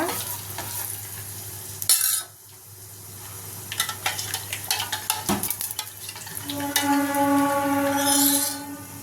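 Curry leaves and asafoetida sizzle in hot oil for a tempering, with a crackling hiss, a sharp spatter, and rapid stirring clinks of a utensil against the pan.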